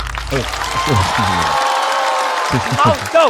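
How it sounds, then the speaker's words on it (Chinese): A studio audience at a stand-up comedy show breaks into applause and cheering that swells for a couple of seconds, with voices speaking over it before and after. "掌声送给毛豆"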